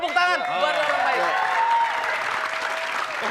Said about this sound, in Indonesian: Beri tepuk tangan buat orang baik.